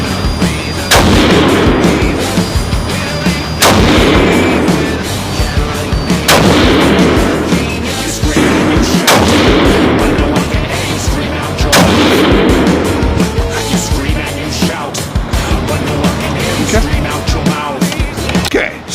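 A 6mm GT rifle loaded with Berger Hybrid 109 bullets over Varget fires about five loud, sharp, close shots spaced a few seconds apart, each with a booming tail.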